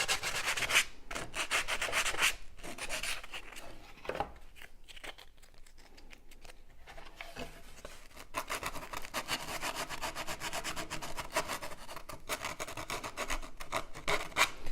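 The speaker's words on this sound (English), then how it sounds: "I'm just going to hold the sandpaper like this and just go along the edges." Sandpaper of 120 grit rubbed along the edges of a wooden cutout, giving close, continuous scratchy strokes that pause briefly midway and then resume steadily without any talk.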